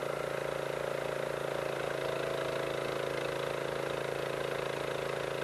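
Small engine on a 25 ton Benchmark log splitter idling steadily, a continuous even chug with a fast pulsing rhythm, moderately close, with no voices.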